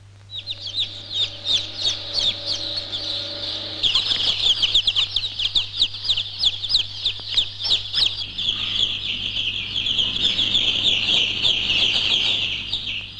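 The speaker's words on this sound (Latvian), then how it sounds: "Patreiz ievietojam novietnē jaunu cāļu partiju." A flock of broiler chicks peeps continuously inside a large poultry house. The dense, high chirping stays loud and fills the whole space, with an overlapping rhythmic chatter and a steady low ventilation hum underneath.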